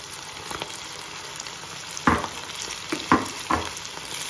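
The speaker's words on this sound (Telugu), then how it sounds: "ఆయిల్ బాగా హీట్ అయిందండి. ఇప్పుడు కలిపి పెట్టుకున్న రొయ్యల్ని ఇలా మెల్లిగా వేసుకోండి ఒక్కొక్కటిగా." Prawn pakoda pieces sizzling and frying in hot oil, a steady crackling hiss with several sharper bursts as pieces are dropped in one by one, close and alone with no talk.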